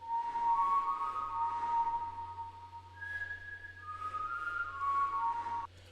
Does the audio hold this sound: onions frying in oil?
no